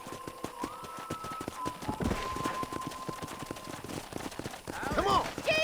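Rhythmic hoofbeats of a galloping horse in the video game Red Dead Redemption, with a steady drone underneath, then a burst of brighter effects and a voice near the end.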